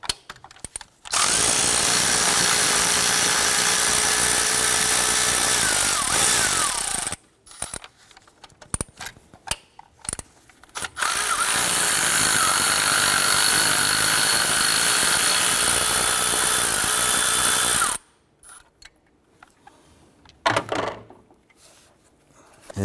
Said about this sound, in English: Remove the 2 13mm nuts holding our coil base or bracket.